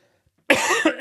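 A single harsh cough after a moment of silence, close and loud, with a short rough follow-up at the end.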